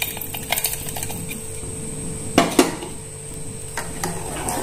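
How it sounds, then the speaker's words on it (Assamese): A metal spoon stirring sugar into milk in a pot, with light clinking taps against the sides and a couple of sharper knocks partway through, close by over a quiet background hum. "আৰু এতিয়া এই চেনিখিনি গাখীৰখিনিৰ লগত দি আকৌ অকণমান চেনিখিনি গুলি যোৱালৈকে লৰাই থাকিম।"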